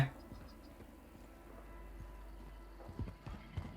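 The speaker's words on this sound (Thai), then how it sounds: "ได้เสียงเท้าอยู่นะ" Soft, rhythmic footsteps from a player in Call of Duty Warzone patter faintly against a low in-game rumble, with a few sharper steps near the end.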